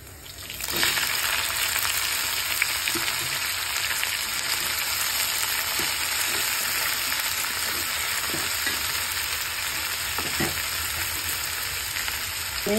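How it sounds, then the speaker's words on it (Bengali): Okra and shrimp fry in hot oil with a loud, steady sizzle that holds unbroken throughout, with a few faint stirring knocks underneath. "ভেন্ডি ভাজি করবো চিংড়ি মাছ দিয়ে"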